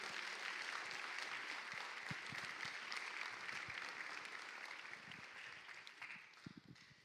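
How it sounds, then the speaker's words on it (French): Congregation applause in a church during a baptism service, dense steady clapping filling the room for about seven seconds and thinning slightly toward the end. "On peut même l'applaudir aussi."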